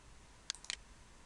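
A computer mouse gives a few faint, quick clicks while drafting in AutoCAD, isolated taps over a quiet background.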